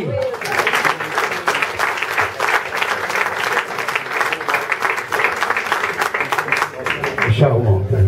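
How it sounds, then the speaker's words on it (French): A theatre-evening audience claps for a volunteer from the crowd. The lively, continuous applause runs under a speaking voice and ends as a voice rises again at the close. "On l'applaudit!"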